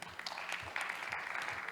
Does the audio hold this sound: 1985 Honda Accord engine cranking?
no